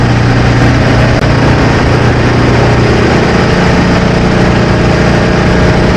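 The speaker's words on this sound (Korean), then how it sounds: "모터 돌아갑니다" A three-phase electric motor, switched through a three-phase circuit breaker selector switch, runs with a loud, steady drone and a constant low hum from start to finish.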